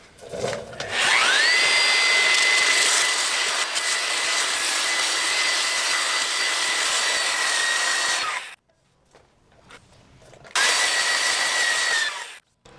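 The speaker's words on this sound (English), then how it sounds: "I'm gonna actually take this handheld belt sander, which has a large surface area, and try to put it over it" A handheld belt sander smooths the repaired frame of a wrecked 2012 Suzuki GSX-R 1000, its motor whining up to a steady, loud pitch, cutting out for about two seconds, then starting up again.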